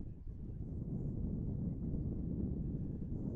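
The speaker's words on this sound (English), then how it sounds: "there are some powerful winds gusting out here in Belmont today" Strong gusts of wind buffet an outdoor microphone at a girls' rugby match in Belmont, producing a steady, loud, low rumbling roar that holds for the whole stretch without letting up.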